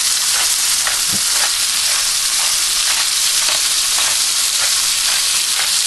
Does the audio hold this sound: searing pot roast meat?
yes